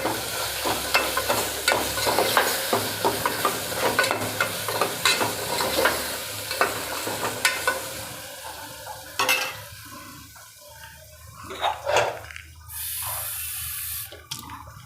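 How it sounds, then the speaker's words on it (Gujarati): A spoon scrapes and clatters repeatedly in a pan of guava and potato curry over a soft sizzle, the stirring slowing to a few occasional knocks near the end. "હવે આ બધું મિક્સ સરખી રીતે કરી દેવાનું"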